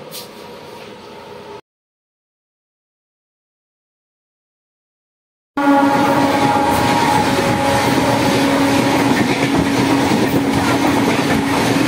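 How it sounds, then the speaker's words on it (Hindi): A passenger train pulling into a station in India, its steady rumble and clatter loud and close after a short silent gap, with a sustained tonal hum over the rolling wheels. "हमारी ट्रेन आ चुकी है।"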